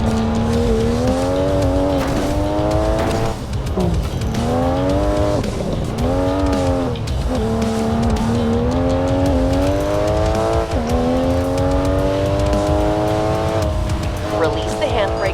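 A race car in the video game Racing Master drifts with the handbrake. The engine revs and whines at high pitch, dipping and climbing again through repeated shifts, with tire squeal under it and a voice talking over the top.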